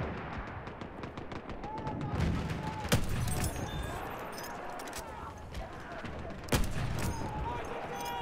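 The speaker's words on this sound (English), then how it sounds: "Enemy machine gun over there." Gunfire in Battlefield 1, a first-person shooter set in World War I, with a busy bed of distant shots and two sharp close reports standing out against the steady background of battle.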